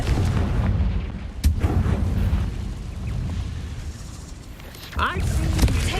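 A Confringo blasting spell explosion in a video game, a heavy booming burst with rumbling aftermath, one sharp crack near the middle and another blast toward the end, with speech mixed in.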